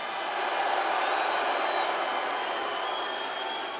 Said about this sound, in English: You're seriously booing Stu Hart?